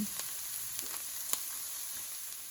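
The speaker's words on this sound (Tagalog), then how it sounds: "Sunod na ilagay ang pinakuloang labong. Lutuin natin hanggang mag-golden brown." Boiled bamboo shoots fry in a pan toward golden brown, giving a steady close hiss of sizzling oil with a few small stirring clicks over about three seconds.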